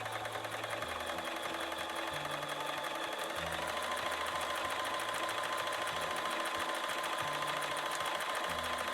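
A Bernina sewing machine runs steadily, stitching hand-look quilting stitches with monofilament thread in a slow spiral, its fast needle rhythm even and close throughout with no talk.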